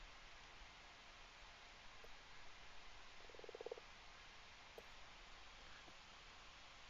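A single frog croaks a short burst of rapid pulses in Minecraft, faint against a steady hiss of game ambience, with a couple of soft clicks around it.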